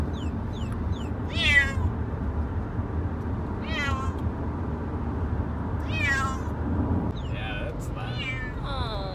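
A cat meows loudly several times, drawn-out wavering cries spaced a couple of seconds apart over a low background hum.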